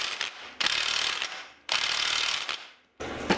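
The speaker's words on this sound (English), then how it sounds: "So let's try the gun on the bolt." An impact gun works on a steel bolt set in aluminium on a Ford Escort RS Cosworth under restoration, firing three loud rattling bursts separated by short pauses.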